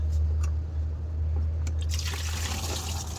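Water drains and trickles out of a 5.7 Hemi engine on a 2008 Ram during head gasket and water pump repair work, a continuous liquid dribble under a loud steady low hum.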